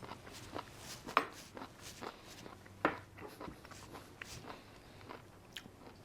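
Quiet, close bites and crunchy chewing of braised cabbage, with a couple of sharper crunches standing out among soft mouth sounds and faint clinks, no talk.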